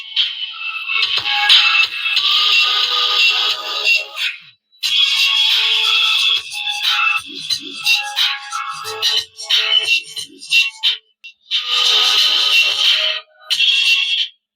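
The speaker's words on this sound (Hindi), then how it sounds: "अब चलिए यहाँ से कोई म्यूजिक हम बजाकर सुनते हैं।" Music plays from a Bluetooth speaker connected to a mobile phone after its sound fault was repaired, loud and bright with short gaps between passages and no voice over it.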